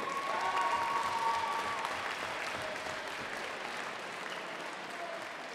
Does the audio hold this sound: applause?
yes